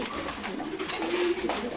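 Several pigeons, including racer hens, coo softly against a hissy background, with a low warbling coo rising near the end.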